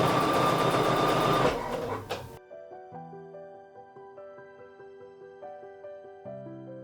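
A sewing machine stitches a quilt in a steady, close, busy whir that cuts off after about two seconds, followed by quiet music.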